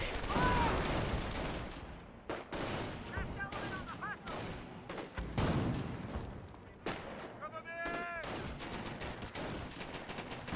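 Scattered rifle and machine-gun fire from infantry squads in Company of Heroes 1, a World War II strategy game battle, with irregular bursts and heavier booms spread throughout under a caster talking.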